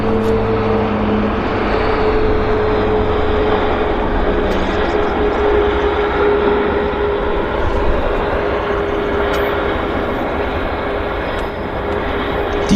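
An airplane lands at Vancouver Airport (YVR), a loud, continuous broadband roar with a steady whine, heard from nearby with no voices over it.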